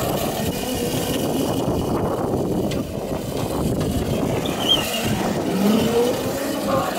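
A Crazy Cart drift cart drifts on a private abandoned road, a steady close electric motor whine with tire scrub, continuous for several seconds without talk.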